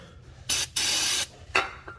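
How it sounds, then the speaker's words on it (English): Brake cleaner sprayed onto car parts during an Acura RSX Type S clutch and transmission job: a short hiss, then a longer sustained blast of about half a second, followed by two quick brief spurts, close and loud with no talking. "Now I'm gonna spray some brake cleaner."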